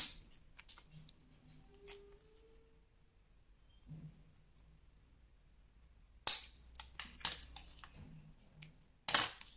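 Scissors cutting decorative paper for a scrapbook fan, sparse quiet snips and rustles close up, then sharp loud clicks of the blades in the last seconds.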